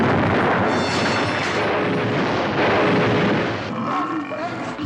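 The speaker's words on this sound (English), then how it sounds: "explosions" Explosions and blasts from a Lost in Space TV series montage, a dense, continuous roar of booms and rumbling with dialogue mixed in throughout.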